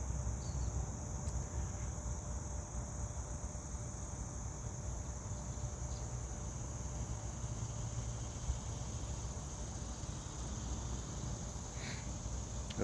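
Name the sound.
cicadas buzzing in a park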